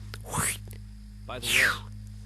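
A voice imitates a sliding sci-fi door with two breathy, swooshing whooshes, each rising then falling, over a steady low electrical hum.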